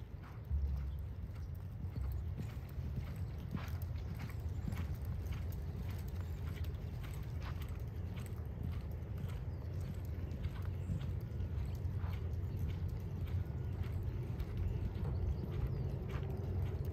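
A ranch pleasure horse moves at an extended lope in a show arena, its hooves drumming a steady, fairly distant rhythm over a constant low background rumble, with no speech.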